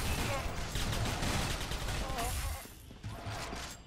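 Rapid, sustained gunfire from the video game Gunz 2 rattles on loudly and continuously, with someone talking over the shooting.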